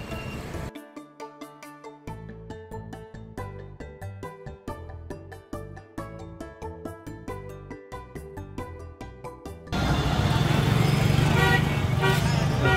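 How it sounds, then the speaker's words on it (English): A bus rolls through a busy street in Libertad, Butuan City, with a rising engine roar that swells loud near the end, over earlier passing traffic, horn toots and music-like tones from the roadside. "there's one of the buses coming through"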